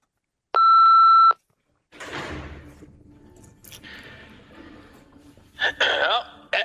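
A single steady electronic tone of about half a second, as on an automated prison phone line from an Ohio correctional facility, sounds alone before people start talking in the background.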